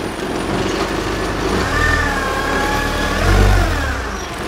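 A forklift engine running at a steady medium idle, swelling slightly twice as it is shifted into reverse and then first gear, close and continuous with a faint whine above it.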